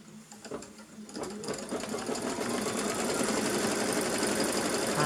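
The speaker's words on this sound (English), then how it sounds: "and stitch across the next one." A sewing machine stitches a line across fabric, starting with a few slow stitches then settling into a steady fast whirring hum, close and alone without speech.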